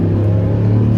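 Deep, steady rumble of the Viper V10 in a Ram SRT-10 pickup while driving, a low continuous engine drone heard from inside the cab, loud and unbroken.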